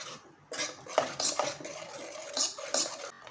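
A spoon stirring whole masoor lentils in a pot, repeated metallic scrapes and clinks against the pot's sides in an uneven rhythm, close and clear.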